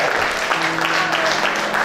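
A church congregation applauds during a service, with dense, steady clapping filling the whole short moment and a sustained voice or tone carrying faintly underneath.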